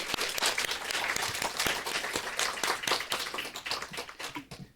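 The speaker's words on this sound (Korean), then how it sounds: "우리 다 같이 한번 다시 한번 박수 드릴까요?" Church congregation applauding a special musical performance at a Sunday Christmas-season worship service, a dense wash of many hands clapping steadily throughout at moderate loudness, with sharp individual claps standing out.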